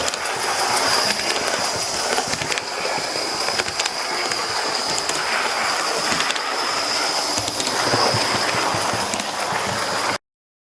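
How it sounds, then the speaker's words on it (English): A model steam locomotive, an E6 number 460, pulls a short train with a baggage car at a sedate pace, giving a steady rhythmic clatter and chuff with a faint high whine throughout. "right now it's pulling a very small train, baggage car"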